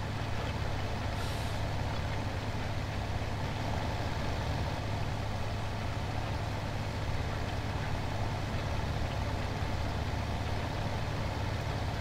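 A small, dirty, hard-working tractor idles steadily in Farming Simulator 2017, a constant low engine drone with no breaks and no talking.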